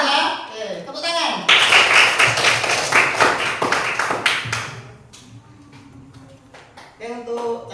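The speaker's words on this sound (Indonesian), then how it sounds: "Oke, tepuk tangan." Classroom students clapping together on a teacher's cue, a loud burst of rhythmic claps that fades after several seconds, with a voice talking just before and after.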